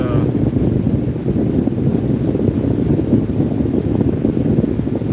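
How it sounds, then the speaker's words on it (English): Steady roaring wind buffets a microphone from a vehicle travelling toward Myrtle Beach, South Carolina, a constant loud rumble filling the whole stretch without pause. "Wind noise."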